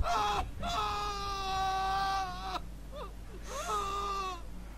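A man screams in The Walking Dead Season Two video game, with long strained harmonic cries rising and breaking, then a shorter wavering yell after a brief pause, loud and close.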